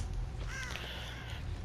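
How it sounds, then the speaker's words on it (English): A crow caws in the Dead by Daylight video game, a single rough call rising over a steady low ambient drone, moderately faint and somewhat distant. "something I heard in recording was a crow went off over towards the area of this pallet"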